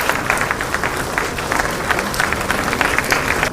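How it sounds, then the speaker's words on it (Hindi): At a government ceremony appointing newly selected exam candidates, the audience claps in a loud, continuous stream of overlapping hand claps. "तालियां लगातार हो, जोश से भरेंगी।"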